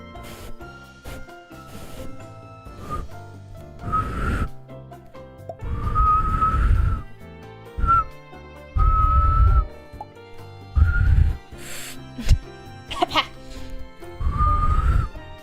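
Several bursts of human whistling, a few seconds each, separated by pauses and short vocal sounds, fairly loud and close.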